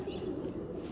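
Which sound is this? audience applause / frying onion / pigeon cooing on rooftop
pigeon cooing on rooftop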